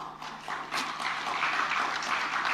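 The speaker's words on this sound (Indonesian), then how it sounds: "tepuk tangan aja kan kelihatan dong nggak meriah" Audience applause that starts softly and swells into sustained clapping of moderate loudness from a crowd, with no talk over it.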